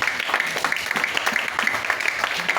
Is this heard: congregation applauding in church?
yes